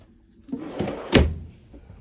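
A drawer in a 2013 Forest River Cherokee Grey Wolf 28BH travel trailer slides open and shuts, a soft rolling rumble followed by a firm close-up thunk, with no talking.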